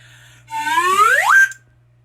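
A whistle is blown once, a loud rising tone that sweeps upward as it gets going and then cuts off after about a second, heard alone over a faint steady hum.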